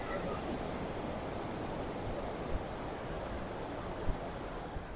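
Surf and wind at Kamala Beach in Phuket: a steady broadband wash of waves with wind noise on the microphone and a couple of faint soft thumps.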